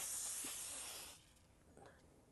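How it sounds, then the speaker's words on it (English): Condé DyeTrans Pro Spray hisses in a short light mist over a transfer, a soft close spray burst that fades after about a second, followed by a faint second puff. "I'm going to be using Condé DyeTrans Pro Spray, and I'm going to lightly mist this over my transfer."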